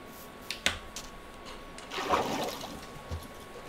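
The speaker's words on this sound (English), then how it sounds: "Oh, the water sound effect is weird." Minecraft water effect: a soft trickling splash swells for about a second after a couple of sharp clicks, fairly quiet and unaccompanied by talk.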